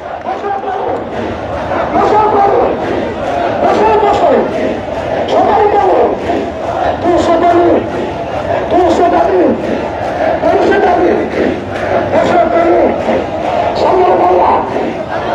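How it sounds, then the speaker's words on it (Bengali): A large crowd of MPO-listed teachers protesting at Shahbagh chant slogans in loud, rhythmic call-and-response waves that repeat steadily, with voices massed together and constant crowd noise beneath. "শাহবাগ চত্বরের মধ্যে এমপিভুক্ত শিক্ষকরা তাদের যে 3 দফা দাবি সেই দাবি বাস্তবায়নের লক্ষ্যে স্লোগান দিয়ে যাচ্ছেন"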